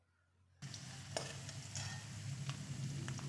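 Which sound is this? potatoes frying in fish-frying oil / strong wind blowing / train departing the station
potatoes frying in fish-frying oil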